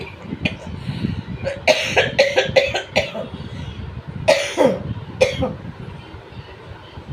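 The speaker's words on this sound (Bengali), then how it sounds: "কাশি হচ্ছে" A person with a cold coughs repeatedly in close, harsh bursts that come in two clusters with pauses between them, and no talk is heard.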